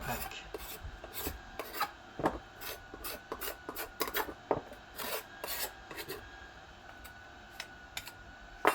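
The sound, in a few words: scraper scraping the wooden handle of a vintage hammer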